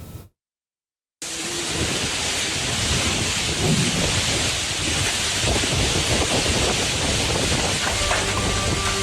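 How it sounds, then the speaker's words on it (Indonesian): Heavy rain pours down steadily amid gusting wind and low rumbles in Tapos, Depok, West Java, loud and continuous after a brief silent gap at the start. "Hujan deras disertai angin kencang terjadi di kawasan Tapos, Kota Depok, Jawa Barat."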